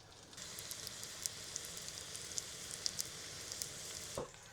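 Cheese dropped into barely heated oil in a pan crackles and spits with fine sizzling, scattered sharp pops over a soft steady hiss, close up and without voices.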